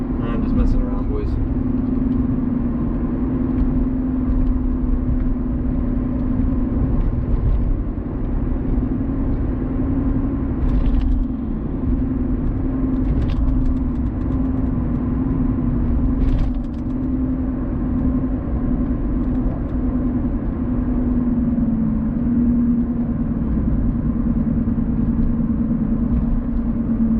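A 2014 Lexus IS F Sport engine runs with a steady low drone inside the cabin while driving, a continuous even hum with occasional light clicks, and someone speaking over it.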